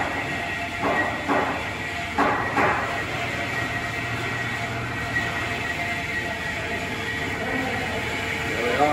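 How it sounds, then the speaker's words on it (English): A bandsaw runs steadily in the background of a machine shop beside a Haas mill, a continuous whining hum under occasional clunks and nearby talk. "We're really loving the sound of the bandsaw in the background here."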